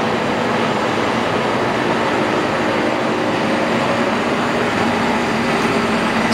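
A Monarch 10EE lathe spindle runs at 1500 RPM, a loud steady whirring drone of machinery nearby with no break in level.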